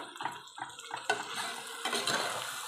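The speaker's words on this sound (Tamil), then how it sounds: "இந்த மசாலாலாம் இந்த காய்கறி கூட நல்லா ஒட்டுற அளவுக்கு கிண்டியும் கிண்டி விட்டுக்கணும்" Masala and vegetables stirred in a pot for veg biryani, a spoon scraping and turning the mixture in repeated strokes with a soft sizzle underneath, close and quiet, with no talking.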